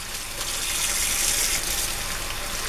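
Tap water runs in a steady loud gush over a smelly sponge scrubbing pad as it is rinsed, continuous and close, with no talking.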